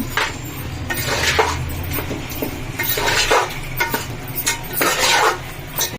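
A spoon stirs curd into a biryani mixture in a metal pot, making steady scraping and clinking strokes in a continuous rhythm with no talking.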